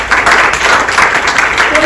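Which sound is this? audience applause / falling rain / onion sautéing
audience applause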